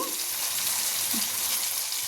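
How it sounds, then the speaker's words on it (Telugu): Brinjal fries in a pan for a crisp stir-fry, giving a steady, close, even sizzle and hiss with no talking. "ఓకే ఒకలమారి వంకాయ సెగలేకుండా ఉడికిద్దండి"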